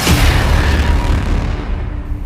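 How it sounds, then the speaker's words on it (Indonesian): A loud roadside explosion booms and then rolls off into a long rumbling decay over two seconds, heavy in the low end, with no voices. "sebuah ledakan terjadi di pinggir jalan"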